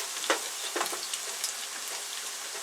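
Carrots sizzle in a pan with meat and onions, cooking for a rice pilaf, giving a steady bright hiss broken by a few sharper crackles and stirring scrapes, close by with no speech.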